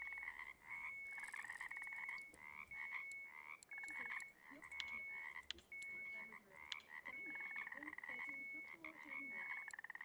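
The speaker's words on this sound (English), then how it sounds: "The frogs are going nuts." A dense chorus of frogs croaks continuously in Russian Fishing 4 during carp fishing, repeated pulsing calls close and loud with no talking.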